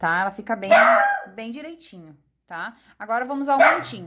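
A dog barks and yips in short bursts indoors, mixed in with someone speaking Portuguese close by.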